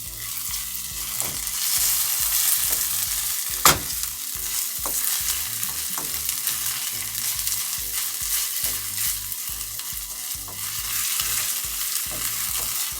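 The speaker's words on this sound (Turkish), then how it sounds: "yarım yemek kaşığı kadar domates salçasında soğanları ilave ediyoruz ve salçayı da kavuruyoruz" Onions and tomato paste sauté in a pan with a steady, close sizzle, while a spoon stirs and scrapes in a regular rhythm with occasional sharper knocks against the pan; no one speaks.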